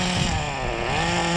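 A Team Losi XXX-NT nitro RC car with an OS 12CV engine on 30% nitro fuel screams at high revs, a loud, buzzing, warmed-up engine with slight pitch changes as it passes close by.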